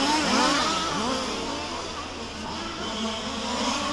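Race car engines at the Warm Springs track during a main event, a close, loud droning roar with rising and falling pitch as the cars accelerate and pass, under a faint commentator's voice.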